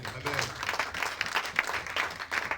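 A church congregation applauds in acclaim of Jesus, with a brief burst of uneven clapping at moderate loudness and speech mixed in.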